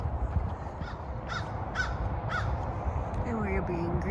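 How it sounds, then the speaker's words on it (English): A crow caws several times in a short run of calls along a trail in Florida, fairly near over steady outdoor background noise. "And we're being greeted by a crow."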